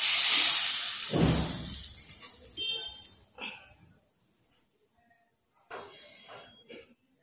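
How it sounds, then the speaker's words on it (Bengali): Boiling hot oil poured over a spice paste for a chicken bhuna, giving a loud hissing sizzle at the start that fades over a few seconds, followed by a quiet gap and a brief, fainter crackle near the end. "ভালো করে গরম করে ফুটিয়ে নিয়েছি, এ ফুটন্ত তেল দিয়ে মশলাটাকে আমি মাখব।"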